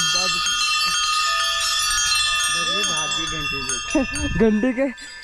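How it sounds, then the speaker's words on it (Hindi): A bright bell rings steadily while goats bleat repeatedly nearby, their calls growing louder toward the end, as the goats run off at the sound of the bell. "घंटी सुन करके बकरियां भाग गई।"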